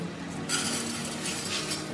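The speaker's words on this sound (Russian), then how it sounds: "Пересыпаю промытый рис в кастрюлю." Washed rice is poured into a thick-bottomed pot as plov is made, giving a steady, close rustling hiss that starts partway through and runs to the end.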